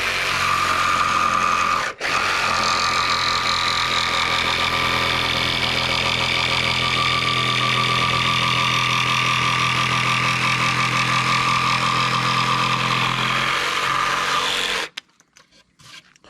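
A jigsaw cutting through soft wood while tracing out a cup holder tray: a loud, steady buzzing whine that runs unbroken for about fifteen seconds, with a brief dip early on, then stops abruptly.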